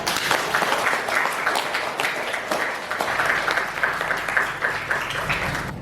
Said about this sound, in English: Give applause to your friend.